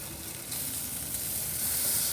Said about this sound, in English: So we're gonna sear some burgers here because I'm getting hungry.